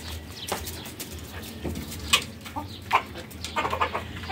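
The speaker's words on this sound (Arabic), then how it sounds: "ادي اكل الفراخ بتاعتنا" Backyard chickens being fed, giving soft scattered clucks and short calls over a steady low background hum, fairly quiet and a little distant, with no talking.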